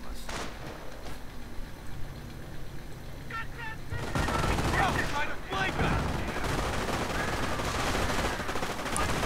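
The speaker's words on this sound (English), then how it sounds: "The barn proving to be a hell house of light machine gun fire." Light machine gun fire rattles from a barn in a video game battle, with dense overlapping bursts and explosions that swell and grow louder midway, continuing under a commentator's voice.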